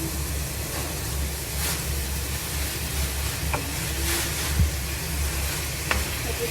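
Grated carrot and onion stir-fry in a pan, a steady sizzle broken by a few sharp scrapes and knocks of a utensil against the pan.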